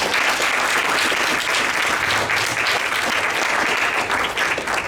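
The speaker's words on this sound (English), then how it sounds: "Let's give the Lord a hand clap of praise for her." A church congregation gives a hand clap of praise after a baptism, sustained loud applause from many people filling the room without a break.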